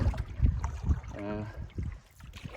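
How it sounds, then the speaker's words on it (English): Solo canoe paddle strokes on calm water, a few soft dips and watery swishes in uneven rhythm, quiet and close, with a brief murmur of voice partway through. "So even though I'm paddling solo, I'm not switching the paddle from left to right to keep going straight"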